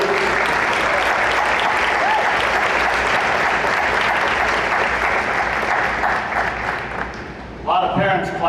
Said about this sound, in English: A lot of parents clapping out there.